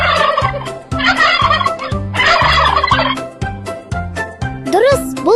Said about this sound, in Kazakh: Дұрыс, бұл күрке тауық.